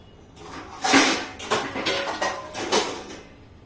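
A lid set over a kadai covering a banana cake tin, giving a few close metallic clanks and scrapes as it is placed and adjusted, moderately loud, with no speech.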